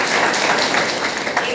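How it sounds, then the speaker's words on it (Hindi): Audience applause at a lecture, a short dense burst of clapping from a seated crowd that fills the whole moment at steady loudness. "अंजलि के लिए तालियां बजाइए"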